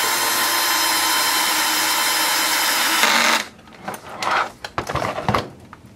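A power driver whirs steadily for about three seconds while tightening screws on an Axial Yeti XL RC car transmission, then cuts off, followed by a few brief handling clicks and taps.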